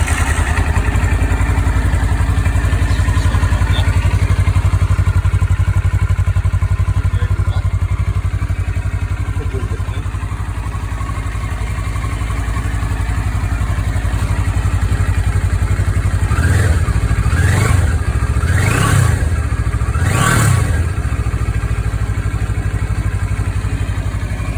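A CFMOTO 650NK motorcycle with its stock muffler runs at a steady idle throughout, then four sharp throttle blips rise and fall near the end. It is close and loud, with no talking.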